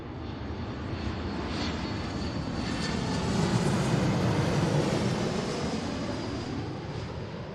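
A jet airliner in special Mariners livery arrives from LAX on runway 34L, its engine roar swelling to a peak midway and then slowly fading, loud and alone with no talk.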